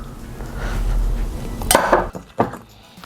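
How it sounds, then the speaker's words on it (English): A fork scrapes and clinks against a bowl while mixing cold extra-fat buttermilk into biscuit dough, a few sharp close taps and scrapes after a steadier stirring rustle. "Mix that in with the fork."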